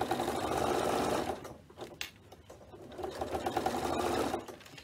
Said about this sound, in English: we're going to top stitch along the very edge of that binding